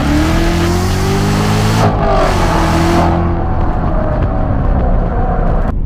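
A 650 hp Chevrolet C7 Corvette Z06 engine revs loud and close as the car accelerates hard, its pitch climbing quickly, with a brief break around a gear shift before the roar continues steadily.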